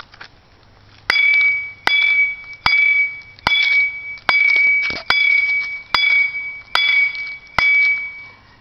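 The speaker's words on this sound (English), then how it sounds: "I wanna hit this here." An iPod is being struck repeatedly to destroy it, giving about nine sharp, loud, ringing clinks at a regular pace, each one hanging with a bright metallic or glassy tone before the next hit.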